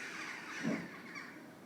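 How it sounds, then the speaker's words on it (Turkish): Birds calling outdoors, with a crow-like caw standing out briefly amid a faint, continuous chatter of other calls. "Kuşlar delirdi."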